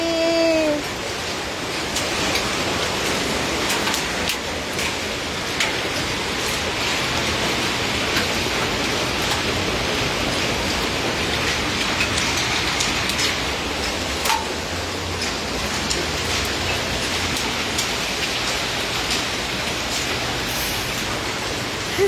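Icy freezing rain falling steadily outdoors in Arlington, a continuous dense patter and hiss that holds evenly throughout, with no talk over it.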